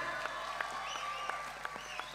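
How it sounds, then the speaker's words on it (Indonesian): Applause from an audience welcoming performer Farel Prayoga at a comedy recitation show, a steady wash of mid-distance clapping with a few sharper claps standing out, fairly quiet and continuous throughout. "Yuk langsung kita sambut bersama-sama tepuk tangan yang meriah untuk Farel Prayoga."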